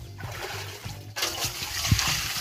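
Water is poured and splashed onto a grounding spot outdoors, with uneven trickles and splatters that build into a heavier splash partway through, close by and fairly soft.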